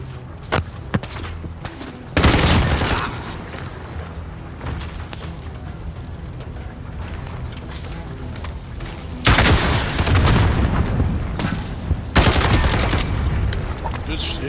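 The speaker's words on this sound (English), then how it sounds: "Shoot that rocket, baby." Call of Duty: Modern Warfare gunfire crackles throughout, broken by several loud rocket blasts and explosions, each a sudden broadband burst, with faint talk in between.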